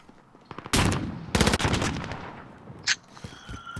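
Holger rifle fitted with a sniper scope firing in Modern Warfare, two loud close cracks with echoing tails, followed by a brief sharp tone and faint background game sounds.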